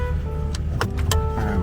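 A 1969 VW dune buggy with a 1776cc engine idles low and steady as it backs up, with a few brief mechanical clunks and squeaks over the rumble, no talking.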